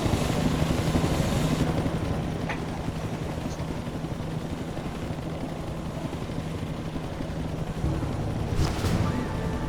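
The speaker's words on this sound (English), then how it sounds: "Would he be in the chopper?" A helicopter in the video game PEAK makes a steady, continuous rotor and engine drone with a low throbbing hum under airy wind-like noise, holding at a constant level throughout.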